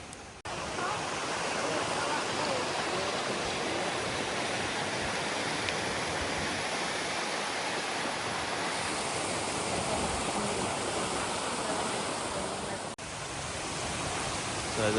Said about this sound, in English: So they've redirected this river from going over the waterfall, but obviously there's a lot still going over there.